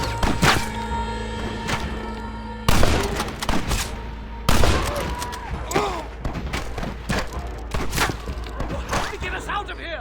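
Shootout gunfire from Red Dead Redemption, loud and close, with rapid overlapping shots and sharp cracks and thuds. Shouting voices are heard between the bursts.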